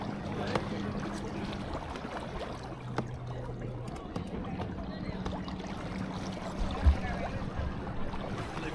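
A boat motors past at Portishead Marina, a low rumbling engine drone with water wash and lapping, steady and moderately close, with a faint knock near the end.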